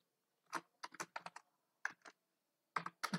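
Keys clack on a computer keyboard as a simple Fortran program is typed on a Windows machine, with close, crisp bursts of keystrokes separated by short pauses in a quiet room.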